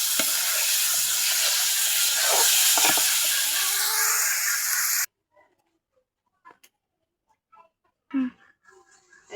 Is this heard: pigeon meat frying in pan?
yes